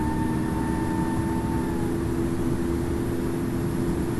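Airplane engine in the Infinite Flight Simulator game throttling up, a steady loud broadband roar with a faint whine fading out, continuous and alone throughout.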